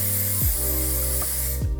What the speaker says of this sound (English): We're gonna spray them with our light hold hairspray.